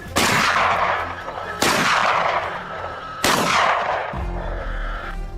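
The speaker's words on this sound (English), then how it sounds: "the shot rang out instantly" Three loud, sharp gunshots at a wild boar fleeing down a rugged hillside, each a sudden blast with a long ringing decay, spaced about every one and a half seconds, followed by a low rumble.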